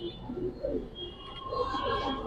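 Racing pigeons of a coloured breed cooing nearby in soft, repeated low calls, with some quiet background noise and a faint voice.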